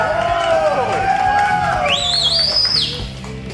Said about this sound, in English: He brought his own cheering section.